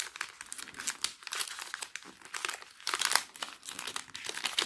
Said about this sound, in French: Et je viens tout simplement plier mon papier comme ceci.